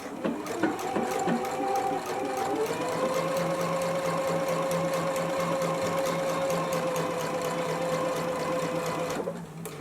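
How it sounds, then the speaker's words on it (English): A sewing machine runs steadily for nearly ten seconds, stitching a dress's elastic casing closed, with a loud, continuous motor whir and close rapid needle chatter, ending abruptly. "let's go ahead to the machine now and stitch the elastic together"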